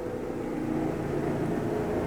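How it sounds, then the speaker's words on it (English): A helicopter flying overhead near a hospital gives a steady, droning rumble that stays fairly loud and unbroken for the whole stretch, with no talking. "Hello, helicopter."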